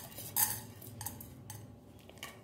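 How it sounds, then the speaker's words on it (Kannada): Cumin and fenugreek seeds dry roasting in a pan without oil, stirred with a metal utensil that gives soft scrapes and light clinks, one louder knock near the start, all faint and close. "ಎಣ್ಣೆ ಏನು ಹಾಕೊಳ್ಳಿಲ್ಲ ಫ್ರೈ ಮಾಡ್ಕೊಳ್ಳಕ್ಕೆ ನಾನು ಖಾಲಿ ಹೀಗೆ ಫ್ರೈ ಮಾಡ್ಕೊಳ್ತಾ ಇದ್ದೇನೆ"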